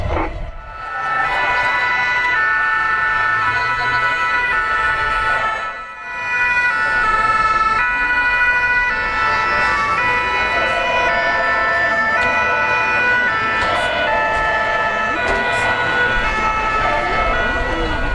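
Fire engine sirens wail continuously and loudly as reinforcements arrive at a fire threatening a house during a civil security open day, the tones overlapping with road traffic noise and dipping briefly midway.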